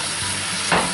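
Chopped moose meat browns in a Dutch oven with a steady, close hiss of frying and a brief stir partway through.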